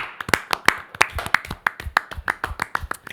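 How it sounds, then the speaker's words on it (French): A small studio audience claps during a French talk show after a player reaches 30 points in a game, with sharp, close, uneven claps rattling steadily throughout. "Oh bravo, applaudissements."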